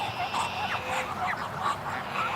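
A very large drake honks and quacks in a rapid, repeated series, close and continuous, with other ducks and geese in the background.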